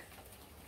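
A dove coos close by, low and soft over a steady background hiss, in a quiet outdoor setting after rain.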